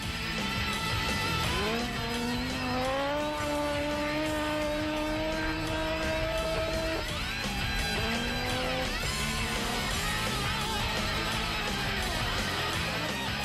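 Mike Shackleton's 1300cc Quadzilla race quad finishes a mountain hill climb, its engine whining as revs climb, holding, then dropping and climbing again, heard from some distance against a constant wash of background noise.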